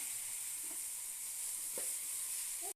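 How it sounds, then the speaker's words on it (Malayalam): Steady sizzling of banana stem frying with chilli and fenugreek powder in a pan for pickle, a constant close hiss with faint stirring scrapes and no talk. "എടുത്തു വെച്ചിരിക്കുന്ന വാഴപ്പിണ്ടി ഞാൻ അതിലേക്ക് ചേർത്ത് കൊടുക്കുവാണേ. എന്നിട്ട് നന്നായി ഇളക്കി കൊടുക്കണേ."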